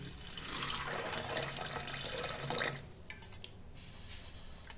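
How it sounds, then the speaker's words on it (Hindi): Water pours from a vessel into a pressure cooker holding peas and potatoes, a steady close splashing stream for a few seconds that stops, followed by faint drips and light handling. "अब उसमें डाल देना है थोड़ा पानी।"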